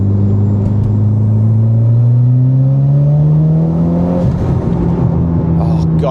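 A tuned Mitsubishi Evo X engine revs steadily, its pitch climbing smoothly over several seconds, then drops back and settles, loud and close throughout.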